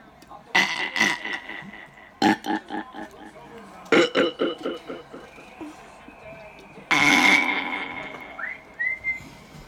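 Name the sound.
child burping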